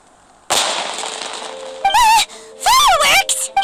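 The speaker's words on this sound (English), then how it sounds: "It sounded like fireworks." Fireworks burst in Genshin Impact, a loud dense crackling spray that runs for over a second, followed by two bright rising-and-falling whistles as more fireworks go off.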